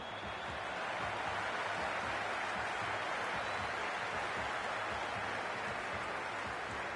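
A stadium crowd roars steadily in the cricket video game Cricket 26, a dense, continuous wash of cheering that holds at an even level throughout with no clear breaks.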